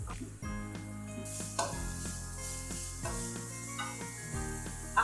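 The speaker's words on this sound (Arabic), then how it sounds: "هحط شويه زيت، ثوم، هحط الكرنب اللي متقطع شرايح صغيره خالص" Thinly sliced cabbage and garlic frying in oil, with a steady sizzle and occasional stirring scrapes over a tonal musical backdrop.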